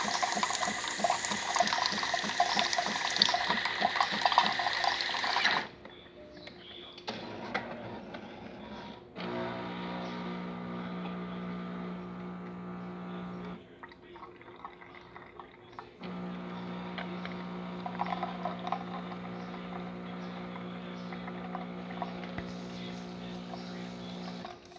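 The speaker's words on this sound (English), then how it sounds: "You can see it's doing a good job of sucking water from the cup." Jura Z7 coffee machine drawing water up from a cup through its milk intake, a steady pumping drone and hum with a fainter, rougher opening stretch and short pauses between runs.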